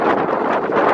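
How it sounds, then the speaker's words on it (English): Brisk, stinging outdoor wind buffets the microphone in a steady, loud roar with a rushing, gusty texture throughout the short moment. "That wind is brisk."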